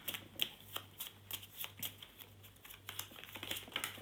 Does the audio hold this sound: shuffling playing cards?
yes